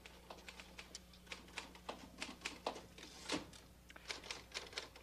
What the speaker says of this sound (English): Oh, Sal, I love to listen to you typing.